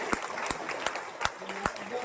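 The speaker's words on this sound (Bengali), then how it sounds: "রাজদীপের জন্য একটা জোরদার হাততালি" Applause for the player of the series at a school inter-class cricket match: a few sparse, spaced claps sound over a low murmur of voices, with people talking nearby.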